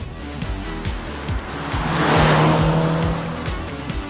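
Mercedes C300 with a 245 hp petrol engine being driven hard, engine note rising through quick gear changes with rhythmic pulsing and a building roar of road and tyre noise, close and loud with no talk.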